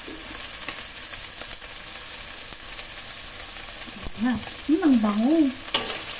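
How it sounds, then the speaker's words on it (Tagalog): Bagoong shrimp paste is sautéed in a hot pan for pakbet, giving a close, steady sizzle with stirring scrapes throughout. Near the end a person speaks briefly over the frying. "sabay na natin igisa yung bagoong"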